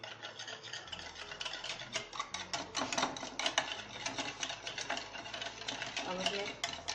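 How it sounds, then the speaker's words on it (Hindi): Yogurt being beaten in a bowl, producing a rapid, continuous run of wet slapping and scraping strokes at a steady rhythm, close and moderately loud, with no one speaking. "अब हम दही लेंगे ½ kg, उसे बीट कर लेंगे अच्छी तरह।"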